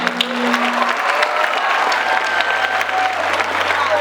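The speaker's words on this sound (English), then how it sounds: "Can we have a huge round of applause for them?" A large crowd claps loudly at a No Tobacco Day and Labour Day program, a dense continuous roll of hands with faint cheering and a low hum beneath it.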